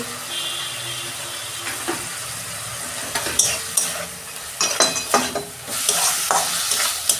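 Ground hot chilli, Kashmiri chilli, coriander and cumin powders fry in a pan, a steady sizzle broken by several sharp scraping stirs that grow busier toward the end, with no talking.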